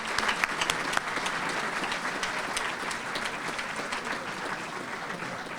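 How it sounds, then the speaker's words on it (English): Audience applause for inductees at a sports hall of fame ceremony, dense and steady clapping from a crowd throughout, fairly loud with a slight swell at the start. "Let's have a round of applause for all of our inductees."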